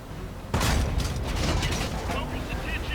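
A T110E3 tank gun fires in the video game World of Tanks, one sudden loud boom that rolls into a rumbling, mechanical tail.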